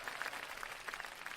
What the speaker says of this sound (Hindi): तालियों के साथ स्वागत कीजिए अभिनव नागर का